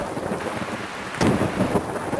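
Thunder rumbles during a thunderstorm on a mountain top, with steady rain hiss throughout and a louder crack-and-roll of thunder breaking in about halfway, close and heavy.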